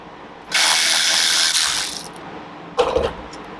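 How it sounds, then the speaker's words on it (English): Ratchet wrench spinning on the 12 mm front brake caliper bolts of a 2013 Kawasaki 300 motorcycle, a loud continuous clicking run for about a second and a half, then a shorter burst after a pause. "We're going to take the brake caliper off first on the front, which is a 12 millimeter."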